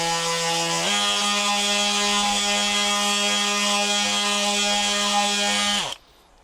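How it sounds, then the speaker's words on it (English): A DeWalt sanding disc runs steadily against the edges of a lure mold, a loud sustained whine that steps up in pitch after a second and cuts off sharply near the end, no voices. "I just used my DeWalt sanding disc."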